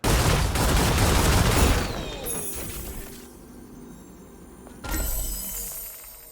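Rapid gunfire shooting a Santa ornament hidden among snowman ornaments in the video game Stellar Blade: a loud, dense burst of shots with shattering, then a quieter tail and a second short blast, no voices.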